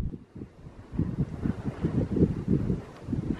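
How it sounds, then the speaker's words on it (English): Cold wind blowing across Stool's Pass, a mountain pass on the Pamir Highway in Kyrgyzstan, buffeting the microphone in low, rumbling, uneven gusts that stay close and steady. "that wind is freaking cold, man"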